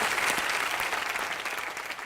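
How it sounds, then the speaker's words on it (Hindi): A studio audience at a televised comedy show claps in a steady, dense burst of applause that stays loud throughout, fading slightly toward the end, with no talk over it. "तालियां"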